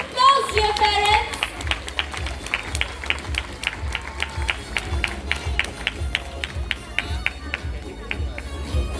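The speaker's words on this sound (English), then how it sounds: "A round of applause, dear parents." Parents at a school award ceremony clap together in a steady round of applause, a dense patter of many hands filling the hall over low crowd murmur.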